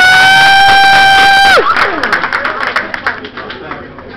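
A comedy club crowd cheers and applauds as a comedian is brought on, starting after a loud sustained tone cuts off, with shouts and claps in a lively, fairly close, gradually fading burst mixed with voices.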